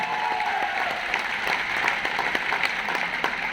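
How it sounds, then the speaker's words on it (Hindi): Business presentation audience claps warmly, a steady patter of many hands with sharp individual claps standing out, moderately loud and continuous for the whole stretch. "एक बार जोरदार तालियां मिस्टर समीर जी के लिए"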